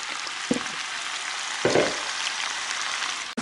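Oil sizzles steadily in a pan, with two soft thumps as homemade peppers drop in and crackling frying continues close up.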